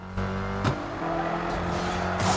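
A Ford Shelby GT500 in the racing game NFS No Limits, with a steady, loud engine roar under nitro boost and brief tire noise, a continuous high-revving drone without pauses.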